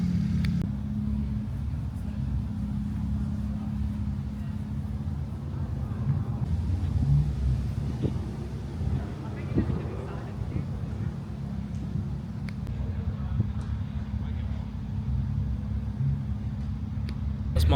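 A steady, low engine rumble from an Aston Martin at the Rollhard car show in Bicester, with wind buffeting the microphone and a few faint clicks, heard throughout.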